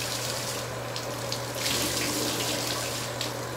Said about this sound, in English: We just need to rinse out this film.